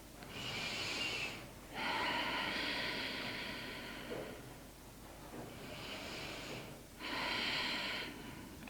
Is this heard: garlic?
no